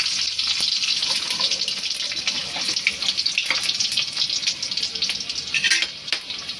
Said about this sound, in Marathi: मी आता जिरं टाकणार आहे त्याच्यात.